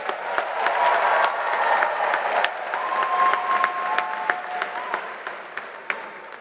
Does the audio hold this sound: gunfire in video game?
no